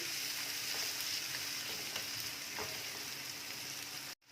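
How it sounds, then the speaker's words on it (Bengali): Egg curry masala fries on a low gas flame, giving a constant, even, close-up sizzle with faint stirring touches and no voices. "আর একটু কষে নেব নিয়ে, আর গ্যাসের ফ্লেমটা আমি কিন্তু স্লো করেই রেখেছি।"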